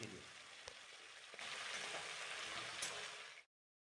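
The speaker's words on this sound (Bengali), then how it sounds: "মাখনটা মেল্ট হয়ে গেলে আমরা কাঁকড়াগুলোকে প্রথমে ভেজে নেব" Crabs frying in melted butter for a restaurant-style spicy crab masala give off a steady, close, dense sizzle with a few faint stirring clicks, then stop abruptly just before the end.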